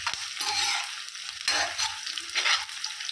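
Duck meat for a Tamil duck varuval fries and is stirred in a pan, giving a steady close sizzle with scraping stirs and louder bursts as the pieces are turned. No one speaks.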